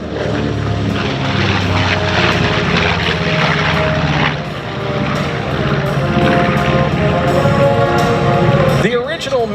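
The B-25 Mitchell bomber Yellow Rose roars past during a simulated bombing run at an air show, its propeller engines loud and sustained throughout before fading at the end.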